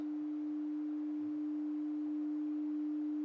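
A steady sine-wave test tone at 3 dB holds one unbroken pitch from start to finish, alone and clean, with only a faint background hiss.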